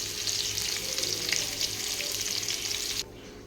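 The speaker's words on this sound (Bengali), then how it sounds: "আলুগুলো ভেজে নিলাম, নুন হলুদ দিয়ে লাল লাল করে ভেজে নিচ্ছি" Potatoes frying in oil with salt and turmeric give a steady, dense crackling sizzle close by, continuous for about three seconds before cutting off abruptly.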